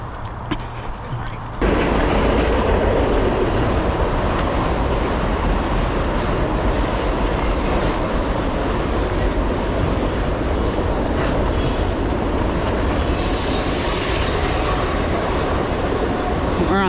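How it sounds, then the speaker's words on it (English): A train passing near the Multnomah Falls trail in Oregon, a loud, continuous rumble and clatter of rail cars that starts abruptly and holds steady, with faint voices underneath. "And we got a train."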